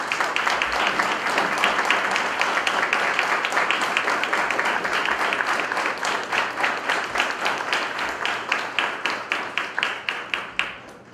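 Applause for the parents at a church service, a dense, steady clapping from a congregation filling the room, then thinning toward the end into fewer, separate claps.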